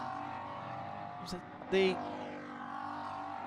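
Race cars at a Continental Tire SportsCar Challenge race at Canadian Tire Motorsport Park roar past under steady commentary, with a sharp whoosh of one car passing close by amid the continuous background engine drone.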